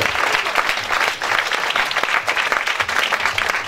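A congregation at a spiritual retreat bursts into sustained applause, a loud close wall of clapping that stays steady throughout.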